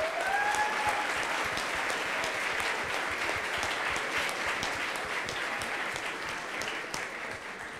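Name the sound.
audience applause at ceremony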